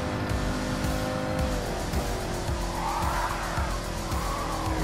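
A Chevrolet Corvette Z06 C2 race car in Gran Turismo Sport squeals its tires through a sliding turn over a loud, constant engine roar, the skid swelling midway and holding.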